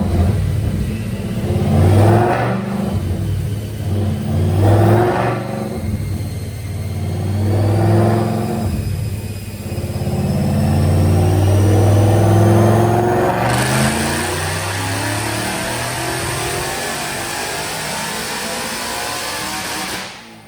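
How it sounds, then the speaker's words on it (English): A 2016 Mustang GT fitted with a Whipple supercharger and Kooks exhaust on a dyno, engine loud and close, rising through several revving surges before a long sustained full-throttle pull with supercharger whine, then cutting off at the end. "But let's make that dyno pull."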